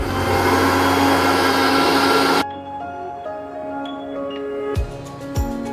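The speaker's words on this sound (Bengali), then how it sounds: "এবারে একটি মিক্সিং বলে আমি আদা রসুন আর লঙ্কা পেস্ট করে নেব" A kitchen mixer grinds ginger, garlic and chilli into a paste with a loud, steady whir that stops abruptly partway through, followed by faint clinks and light handling sounds.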